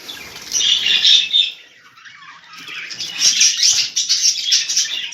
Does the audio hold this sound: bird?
yes